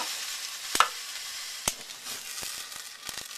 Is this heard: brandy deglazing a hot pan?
yes